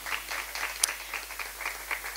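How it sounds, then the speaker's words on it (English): Audience applause at a reading certificate course presentation ceremony: a steady, fairly soft patter of many hands clapping together, sustained without a break and with no talk over it. "they deserve a round of applause"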